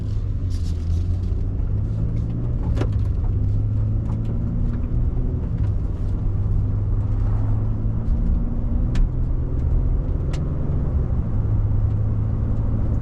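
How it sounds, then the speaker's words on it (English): Steady road rumble from a 2024 Nissan Frontier Pro-4X on Dynapro AT2 all-terrain tires, with scattered faint ticks and pings of dirt and rocks thrown against the body over constant tire and engine drone, no talk. "You can hear these hand-cooked Dynapro AT2s throwing dirt and rocks out of them."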